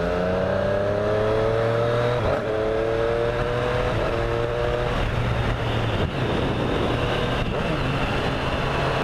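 A 2017 Triumph Street Triple 765 RS motorcycle accelerating hard, its engine note climbing steadily and cut by quick shifter gear changes at regular intervals, loud and close throughout.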